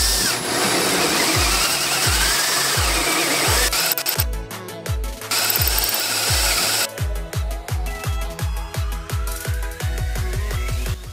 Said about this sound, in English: Grab your drill and hole saw, then cut out each peg hole.